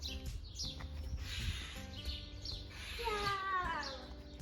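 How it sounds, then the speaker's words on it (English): A bird calls with a few chirping, rising notes outdoors on a seaside car trip, moderately close, mixed with background rumble and a child's and adult's voices. "Bird. Yes, bird."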